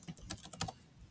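Rapid, close keystrokes on a computer keyboard as code is typed, a short burst of uneven clicks with no voice.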